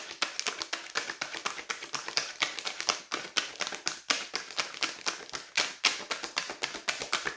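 Tarot cards shuffled by hand during a reading, a steady run of quick, crisp papery taps and riffles close to the microphone, with no talking.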